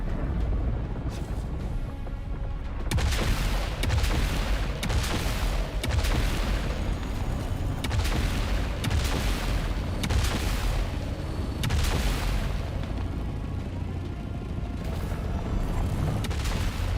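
Gunfire in Dune Awakening in the deep desert: a steady run of heavy, booming shots repeats at a regular rhythm over a constant loud low rumble, with no talking.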